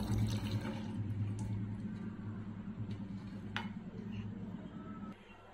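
Rajma cooking water is poured into a pan of gongura curry, making a soft, steady pouring and splashing sound for about five seconds before it stops.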